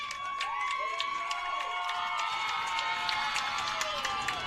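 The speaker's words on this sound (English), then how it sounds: "you can hear the crowd is starting to heat up" A crowd at a women's college lacrosse championship game cheers and murmurs continuously in the late, tense moments, with scattered shouts and whistle-like tones over a steady roar.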